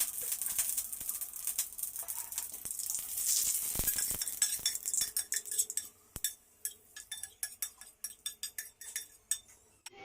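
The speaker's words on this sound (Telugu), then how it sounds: "దీనిలోనే మునగాకు వేయించుకుందాం" Drumstick leaves crackle and sizzle loudly in hot oil with asafoetida tempering, then the frying thins into rapid, irregular pops and spits.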